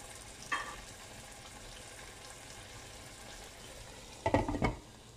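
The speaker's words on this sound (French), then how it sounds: "Moi, je fais cuire la sauce ici pendant 5 minutes" Peanut sauce with chicken simmers in a pan with a low, steady bubbling sizzle, broken by a short scrape early on and a louder burst of stirring near the end.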